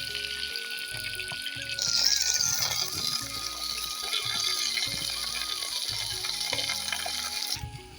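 Spices and condiments fry in hot oil in a wok, sizzling and crackling steadily at close range, with a brief metallic clink and a hissing swell early on.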